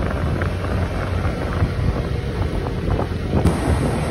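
Wind buffeting a microphone while riding along an ocean boulevard beside the sea, a loud continuous rumbling rush with gusty swells and no voices.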